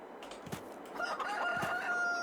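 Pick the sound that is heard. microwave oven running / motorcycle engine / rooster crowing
rooster crowing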